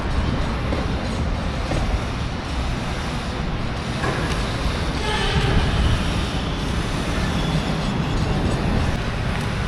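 A metro train at Dholakuva metro station in Gandhinagar rumbles steadily with a continuous low roar and rail noise, mixed with nearby road traffic, loud and constant.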